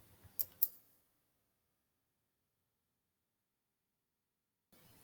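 Two crisp, close mouse clicks sound in quick succession near the start, then give way to near silence, with faint room noise returning only at the very end.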